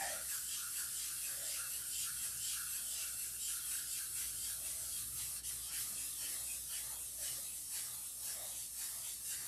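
Wet sanding with fine-grit sandpaper, working up through 2,000 to 10,000 grit, makes a steady close hiss with faint rhythmic rubbing strokes throughout, no talk.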